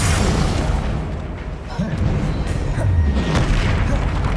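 Confringo fire-spell explosions in Hogwarts Legacy combat: deep booming bursts over a dense, noisy game mix, with a voice calling out spells.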